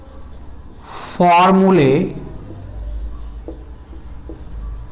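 Pen or chalk writing out formulas during a chemistry lecture on normality, a steady scratchy rasp running under the teacher's voice, which briefly rises louder partway through.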